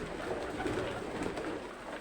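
Soft coos from a room of about eighty to ninety pairs of Bashiraj pigeons murmur through a steady, dense background hum, several birds calling at low volume without a clear rhythm.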